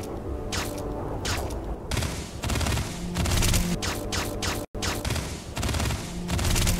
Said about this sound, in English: And the sound these guns make are even worse.